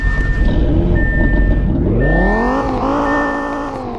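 An Audi RS3 engine revs up and down in a video game, in sweeping pitch rises, loud and close, with a steady high whine running through and no talking.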